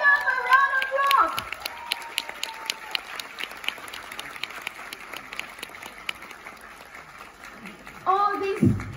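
Audience applause at a lifestyle achievers' event, a crisp steady clatter of many hands between stretches of amplified speech at the start and end.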